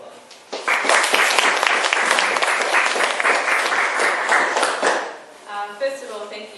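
Audience applause welcoming a speaker at a talk, a full burst of clapping rising quickly, holding steady for several seconds, then fading as a voice begins speaking.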